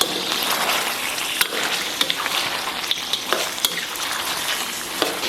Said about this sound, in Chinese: 然后把肥肠下里边，继续给它反复煸炒。